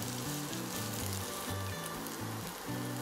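Carrots and potatoes fry in a pan with a steady, soft sizzle, crackling quietly and evenly throughout with no talking.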